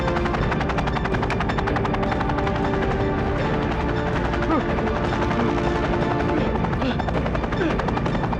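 A helicopter in flight gives a loud, constant buzzing rotor and engine drone filling the whole stretch, close and steady.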